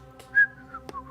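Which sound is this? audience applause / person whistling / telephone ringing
person whistling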